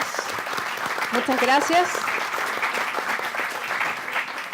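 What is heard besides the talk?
audience applause for a panel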